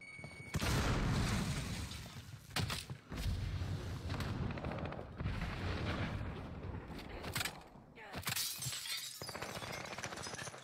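Bursts of gunfire and explosions from the video game Warzone Rebirth, loud and dense with rapid shots and booming impacts, broken by short gaps near the end.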